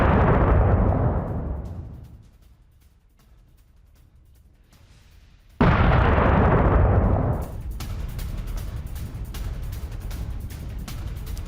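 Explosions from a Russian Kinzhal missile attack on Kyiv: a massive, deep blast that rumbles and fades over about two seconds, then after a lull a second heavy boom erupts and rolls on into a sustained, crackling roar.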